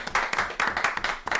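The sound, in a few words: applause, clapping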